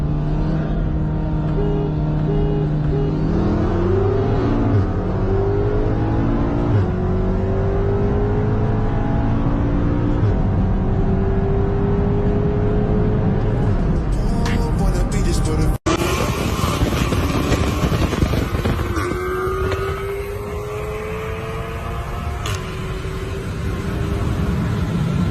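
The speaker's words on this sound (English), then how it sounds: "Second to last race is an intake pulley Hellcat versus full bolt-on hybrid turbo tuned on E85." Engines roar loud and close for a drag race between a Hellcat with an intake pulley and a full bolt-on hybrid-turbo car tuned on E85, revving hard and pitching upward, with a sharp crack near the end and a roaring tail.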